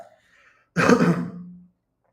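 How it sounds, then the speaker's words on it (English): A person coughs and clears their throat once, a short loud rasping burst that trails off into a low hum, with only faint background before it. "Sorry, that I'm coughing."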